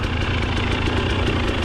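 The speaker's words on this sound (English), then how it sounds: "Bike's running great." A dirt bike engine running steadily on a mountain race course, a continuous loud buzzing drone, close and unbroken, with no talking.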